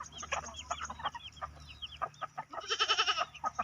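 Chickens, both rooster and hen, cluck and call repeatedly in a yard, a busy run of near squawks and clucks with a louder burst toward the end.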